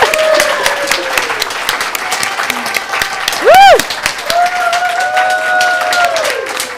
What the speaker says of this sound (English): We can all clap for Ender.